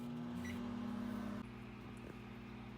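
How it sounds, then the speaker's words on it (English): A microwave oven heats a breakfast dish mixed with chia seeds, giving a steady, close electrical hum with a faint tone shift partway through and no voices. "now it goes in the microwave"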